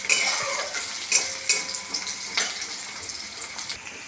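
Onions frying in oil after cumin seeds have spluttered, a steady broadband sizzle with a few light utensil clicks and stirring scrapes, close and moderately loud, no voices.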